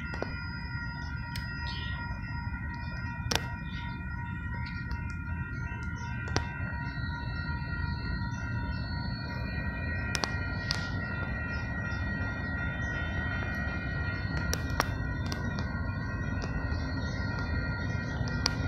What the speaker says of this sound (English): It looks like a BNSF green train.